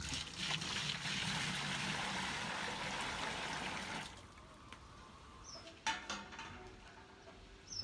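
Hot water, about ten litres heated to roughly 70 degrees, pours steadily into a homebrew beer mash for around four seconds, then stops, leaving quiet clinks and small splashes.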